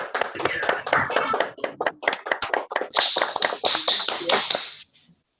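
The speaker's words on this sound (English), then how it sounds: "Let's clap for CS." Webinar panelists unmute and clap together in a scattered burst of hand claps, close and fairly loud, with voices talking over the claps.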